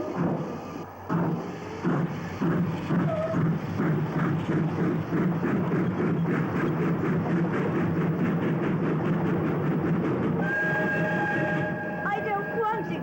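A steam-era train from a 1961 South African Western rumbles and clatters steadily on the rails, loud and close throughout, with a long tonal whistle or horn rising near the end.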